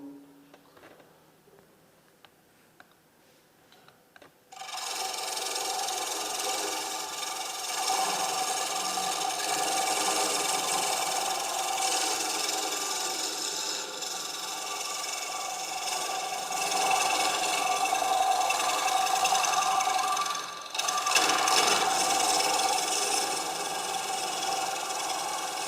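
Scraper cutting wood on a lathe while turning a shallow themed platter: a steady, loud rasping hiss that begins after a few quiet seconds, runs continuously with a brief dip near the end, no voices.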